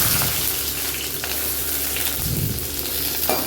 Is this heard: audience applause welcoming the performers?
no